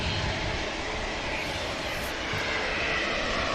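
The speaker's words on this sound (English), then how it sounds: "Rolls-Royce power plant's about to thrust this beautiful aircraft down 23 left for departure to Las Vegas." A Rolls-Royce powered airliner taking off on runway 23 left at Manchester Airport gives a loud, steady, broadband engine roar that holds without a break, with no voices over it.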